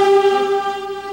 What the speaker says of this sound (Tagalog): Ang lakas nga ng busina, pagdating dyan, bumubusina na mahaba yun.